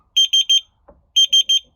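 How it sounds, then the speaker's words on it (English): A wall-mounted alarm beeps loudly and clearly in two bursts of three evenly spaced shrill tones, with a short soft knock between the groups and no talking. "There's the alarm, look up on the wall."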